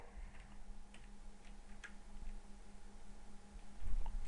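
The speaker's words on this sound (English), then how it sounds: "Just type, yeah, you can type that here." Typing on a computer keyboard while entering Python input, faint irregular key clicks over a steady low hum, quiet and close.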